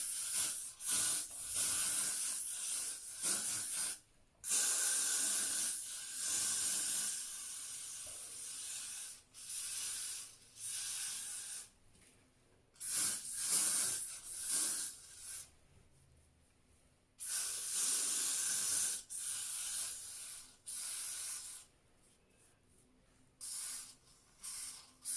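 Repeated bursts of Got2b aerosol hair spray hissing, some long and some short, with brief pauses between them, close and loud.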